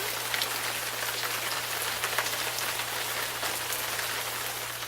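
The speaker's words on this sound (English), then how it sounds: "Why the rain, you might ask, as a sound effect for today's show?" Steady rain pattering on a surface as a sound effect, a dense, even hiss that holds at the same level for the whole stretch under a faint low hum, with no voices.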